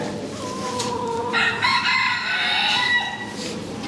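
A rooster at a poultry and rabbit show crows loudly and close, one long harmonic call that swells in the middle before trailing off against faint hall ambience.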